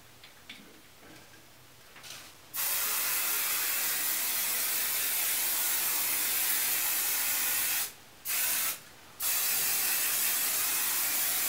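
Hairspray blasts from an aerosol can onto hair styled into liberty spikes, a long steady hiss near the mic, broken by two short pauses before resuming, with no talking.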